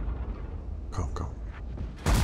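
A tank cannon shot in World of Tanks, a WZ-111 match with a Maus, booms at the very end as a single loud blast after quieter low rumble and brief mechanical sounds.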